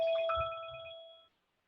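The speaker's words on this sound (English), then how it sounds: "turn your phone off" A single short electronic phone ringtone phrase sounds clearly and alone, then cuts off after about a second and a quarter, leaving silence.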